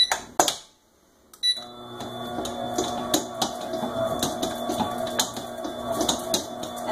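Softened butter worked into walnut bread dough a few pieces at a time: a steady mechanical hum with repeated knocks and thumps, starting after a brief quiet pause.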